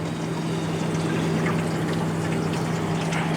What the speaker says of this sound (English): So you've got like a swampy reverse air conditioner pump in there, circulates the water.